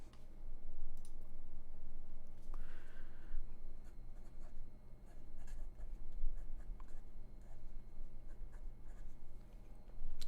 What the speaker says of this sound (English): I will go ahead and write that down.